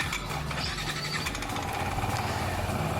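A Yamaha NMAX 155 scooter engine runs at close range during a CVT test, with a rough, pulsing mechanical idle and some light rattling.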